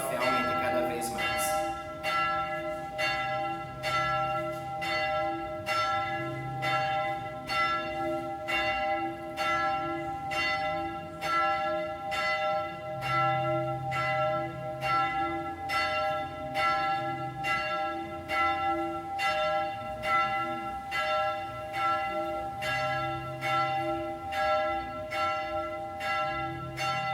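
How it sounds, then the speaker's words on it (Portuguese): A church bell tolls in a long steady series of evenly spaced strikes, each ringing on with bright overtones, alongside faint murmuring voices in the background. "escute Deus te chamando através do toque desse sino"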